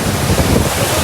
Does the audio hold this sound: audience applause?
no